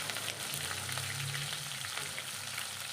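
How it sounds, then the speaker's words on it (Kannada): Green chillies frying in a pan give a steady, close sizzle and crackle of hot oil, a continuous hiss with no talking. "ಫಸ್ಟ್ ನಾನು ಹಸಿಮೆಣಸಿನ್ಕಾಯಿನ ಹಾಕ್ಕೊಂಡು ಚೆನ್ನಾಗಿ ಫ್ರೈ ಆದಮೇಲೆ"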